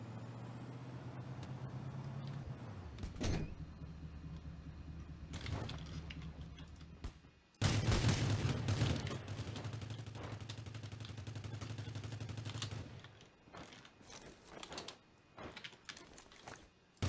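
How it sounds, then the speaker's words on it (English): Gunfire in the battle-royale game Rules of Survival, with a few sharp shots spread through the clip over a steady engine drone from an armored truck and some clicking, fairly loud. "I hear shots there."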